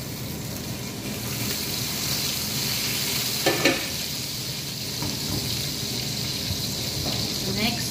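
Oil and melted butter sizzle steadily in a pan while making macaroni with vegetables, a constant close hiss broken by a brief clatter of stirring midway.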